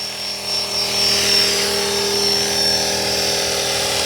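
A Blade S330 RC helicopter flies close by outdoors at sunset, its steady high-pitched rotor and motor whine loud and continuous throughout, with no talking.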